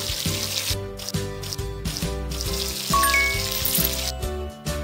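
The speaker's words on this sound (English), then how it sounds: "Now rinse the shampoo off!" Cartoon water rinsing shampoo from hair in a kids' dress-up game streams steadily in a hissing, splashy rush, layered with short bright game chimes and tonal effects.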